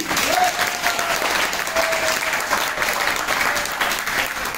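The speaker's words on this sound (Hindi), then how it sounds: "तालियां जोरदार मार दो भाई" Loud, continuous clapping from an audience at an Indian business plan presentation, with dense applause and a faint tonal sound near the start.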